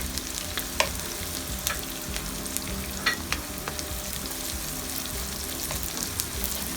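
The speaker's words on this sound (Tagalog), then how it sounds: "ilalagay na po natin ang ating saute natin ng onion ng bahagya, ang ating luya" Onion and ginger sauté in a hot pan, giving a steady close sizzle with light stirring scrapes and small pops scattered through, with no talking.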